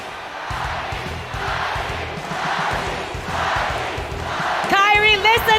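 Crowd at the M5 Mobile Legends esports grand final in the Philippines chanting the team name ONIC, a roaring rhythmic chant that swells in waves, with an announcer's amplified voice joining near the end.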